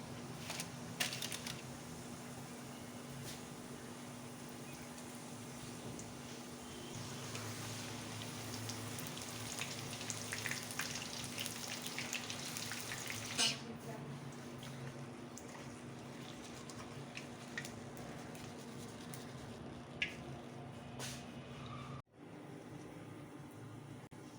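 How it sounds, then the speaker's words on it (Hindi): Tortilla chips frying in hot oil over a medium flame until golden give a steady, close crackling sizzle that runs without talk, then softens partway through. "एक एक करके डालें और इनको गोल्डन होने तक फ्राई करेंगे ऑन मीडियम फ्लेम।"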